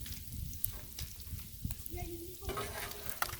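Soft, crackling sizzle of bacon frying on a Blackstone griddle, with faint scraping and occasional spatters, fairly quiet throughout.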